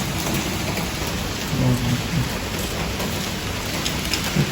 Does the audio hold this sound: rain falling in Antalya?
yes